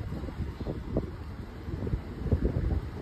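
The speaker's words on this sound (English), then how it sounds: "It's windy." Gusty wind buffets the microphone outdoors with a steady low rumble and irregular thumps, while leaves rustle faintly in the background.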